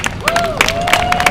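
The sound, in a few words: audience clapping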